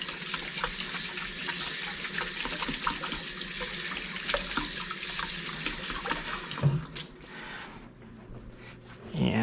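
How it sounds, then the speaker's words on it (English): Kitchen tap running steadily while hands are washed beneath it, a close, continuous rush of water with small splashes, cutting off near the end with a brief clatter. "Give my hands a quick wash."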